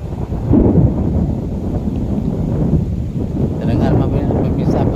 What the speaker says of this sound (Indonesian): Terdengar pemirsa petir-petir menyambar pemirsa.